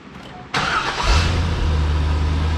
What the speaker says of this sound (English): So we're gonna fire it up